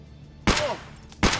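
Two heavy .366 rifle shots in Escape From Tarkov, each a sharp close blast with a short ringing tail, spaced under a second apart.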